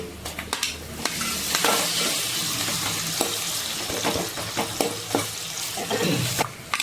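A sizzling pan of vegetables with green chilies, salt and turmeric as tomato goes in; steady frying hiss close up, broken by clattering stirring strokes and clinks.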